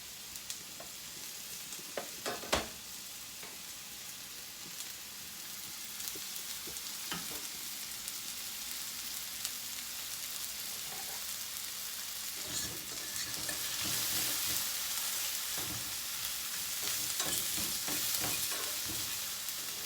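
Peppers frying in a pan alongside sausage and sweet potatoes, a constant close sizzle that swells louder toward the end, punctuated by occasional sharp taps and scrapes of a utensil.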